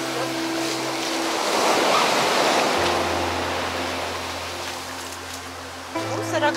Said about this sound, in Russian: Смотрите, какие сегодня волны.